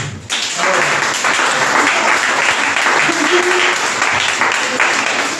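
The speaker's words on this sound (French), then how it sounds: "Acclamons pour Jésus." Church congregation clapping and cheering during a Sunday worship service, loud sustained applause filling the room after a brief quiet start, with voices mixed into the crowd noise.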